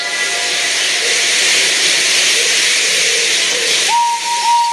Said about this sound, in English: When Henry had got up steam, he puffed out